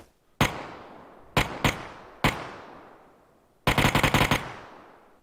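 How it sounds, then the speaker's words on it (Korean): Gunfire rings out in the battle game PUBG: a single shot, then a quick pair, another lone shot, then a rapid burst of about seven rounds. Each crack is loud and close, and the echoes decay between shots. "난이 형이 따라다니면서 쏴 계속"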